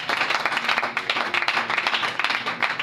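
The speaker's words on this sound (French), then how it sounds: "Est-ce qu'on peut acclamer pour la parole de Dieu?" Congregation at a French-language church service breaks into sustained, lively applause, many hands clapping at once in a dense, even wash close by, with a voice faintly audible underneath.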